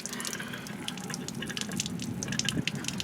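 Water drains from an RV hot water tank, a steady close splashing gush with small drips and gurgles, alone without voices.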